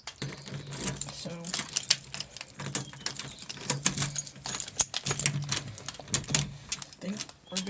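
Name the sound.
keys jangling while locking up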